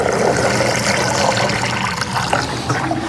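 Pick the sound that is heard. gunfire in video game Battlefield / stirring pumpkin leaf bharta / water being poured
water being poured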